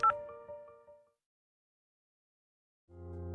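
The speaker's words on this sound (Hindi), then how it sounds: "सरप्राइजिंगली उधर से फोन 2-3 रिंग के बाद उठ भी गया" A phone ringing on an outgoing call: a bright electronic ringtone chimes briefly, then falls silent for about two seconds before a second, lower ring begins. No voices.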